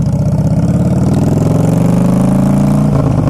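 A 2011 Harley-Davidson Fat Boy Low V-twin rumbles loud and close, its throbbing exhaust note dropping in pitch as it shifts down, then settling near the end.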